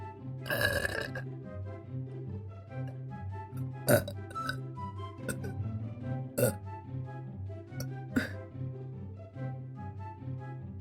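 A string of loud, close burps, several separate eructations spread over about eleven seconds, some short and sharp, others longer and rumbling, with little else around them.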